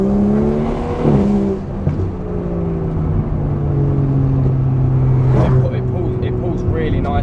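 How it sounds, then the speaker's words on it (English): A BMW M235i on the road, its engine droning and revving through gear changes, with sharp crackles from the exhaust on deceleration, loud and close from inside the car. "it backfires, pops and bangs when you de-accelerate"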